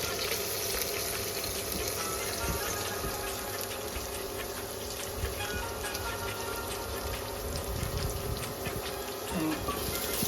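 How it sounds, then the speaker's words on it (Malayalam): Crushed garlic and ginger sizzle steadily in hot oil for a Kerala beef roast, a dense continuous crackle and spatter with no pauses, close and fairly loud. "ഇത് നമുക്ക് ക്രഷ് ചെയ്ത് വെച്ചിരിക്കുന്ന വെളുത്തുള്ളി, ഇഞ്ചിയും ആ എണ്ണയിലോട്ട് ഇട്ട് കൊടുക്കാം."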